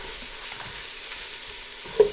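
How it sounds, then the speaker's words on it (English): Spices sizzle steadily in hot oil, a constant crackling hiss with a small clink near the end. "I'm just going to fry those together for 15 seconds"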